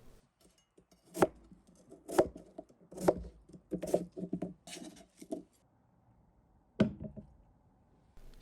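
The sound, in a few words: chopping potatoes and vegetables for braised chicken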